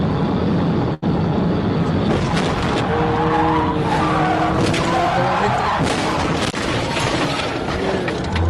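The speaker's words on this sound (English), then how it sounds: "After topping 140 miles per hour, he finally caught up, leading to this catastrophic collision" A police car chase after topping 140 miles per hour ends in a catastrophic collision near a truck: loud roaring road and engine noise with skidding tire squeal and a heavy impact, while a voice talks over it.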